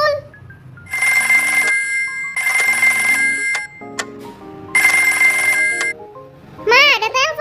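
A telephone rings in Toca Life World in repeated electronic bursts with short pauses between them, loud and close, with a voice speaking briefly between the rings.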